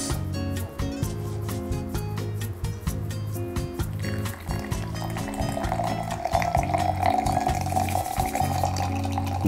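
Hot water at 80°C is poured into an AeroPress up to the first line, about 90 cc, making a rising liquid fill tone in the second half beneath steady, rhythmic background music.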